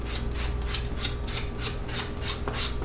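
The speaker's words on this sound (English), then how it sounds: "with the rough grit sandpaper, you can kind of go more aggressive" Rough-grit sandpaper rubbed back and forth along the edge of oil-tanned leather for a card holder, giving a steady rhythmic rasping of about eight close, even strokes with no voices.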